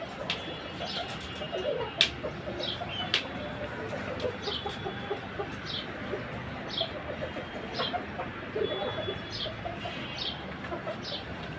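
Chickens are let out of a cage on a rooftop garden. Soft clucks and cooing calls repeat at an easy pace over a faint outdoor background, with one sharper knock near the start.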